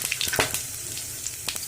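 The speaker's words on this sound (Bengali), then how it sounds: "আর প্রথমে ফোড়নে দেবো গোটা গরম মশলা, শুকনো লঙ্কা, গোটা জিরে," Whole garam masala, dried red chillies and cumin seeds sizzle in hot oil as a tempering, a soft continuous crackle with a few sharper spits and pops near the start and end.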